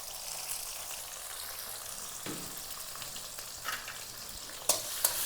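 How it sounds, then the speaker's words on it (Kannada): Chopped tomato fries in a pan for jeera pepper rasam, giving a close, steady hiss and sizzle throughout, with a few sharp clicks of stirring near the end. "ಟೊಮೆಟೊ ಸ್ವಲ್ಪ ಚೆನ್ನಾಗಿ ಫ್ರೈ ಮಾಡ್ಕೊಂಬಿಡೋಣ."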